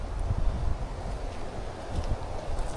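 Wind gusting outdoors at a waterside fishing spot, a steady low buffeting rush across the microphone with no talk.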